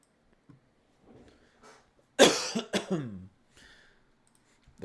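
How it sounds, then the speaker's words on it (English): A person coughs in a harsh, loud fit of several quick, close-up bursts in a quiet room after three weeks of lingering illness, with softer breaths and throat sounds around it. "The cough that just keeps on giving."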